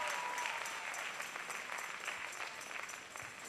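A crowd applauds a military band at a concert, clapping dense and continuous at a moderate distance, slowly tapering.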